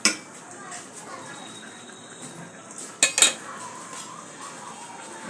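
A spatula clinks and scrapes against a pot while katla fish head curry with okra is stir-fried, faint and close, with a sharp cluster of metal knocks partway through over a quiet background hiss.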